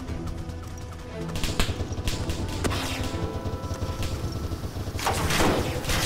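Gunfire in the video game Arma 3 during an Altis Life police fight, dense rapid automatic bursts crackling steadily over a noisy in-game background, loud and continuous.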